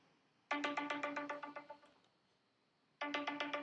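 A phone's ringtone reminder goes off twice: a bright, repeating electronic trill of rapid pulses plays for about a second and a half, stops, then starts again near the end, clear and close in an otherwise quiet room.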